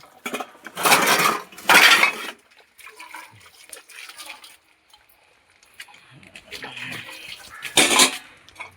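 Loud bursts of water pouring into metal pots in a village home, with clanking and clinking of vessels between fills, close by.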